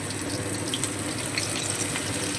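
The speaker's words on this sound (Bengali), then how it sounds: "সুইটকর্নগুলো তেলে দিয়ে দিচ্ছি" Sweet corn kernels sizzle in hot mustard oil in a pan, a steady, dense frying hiss that runs evenly throughout at a close, moderate level with no voices.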